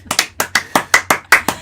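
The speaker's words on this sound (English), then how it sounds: "Hey, big round of applause, please, for Michael Cohn" At a virtual open mic, a single nearby person claps their hands for a performer. About ten crisp, evenly paced claps sound alone, with no talking.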